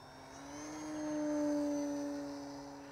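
Durafly Night Tundra RC airplane flying at night, its electric motor a faint whining drone that swells as it passes closest and then fades away.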